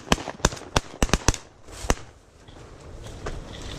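Shotguns fire at geese during a freezing river hunt, sounding as a quick run of sharp, loud reports, several in close succession and one more a moment later, then fading into open outdoor ambience.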